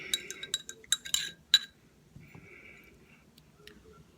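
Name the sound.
spoon stirring an apple cider vinegar detox drink in a glass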